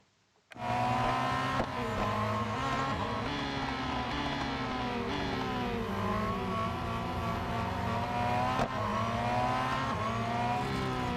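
Race car engine in the mobile racing game Real Racing 3 drones loudly and steadily after a brief silent start, its pitch sliding up and down through gear changes with faint tyre noise beneath.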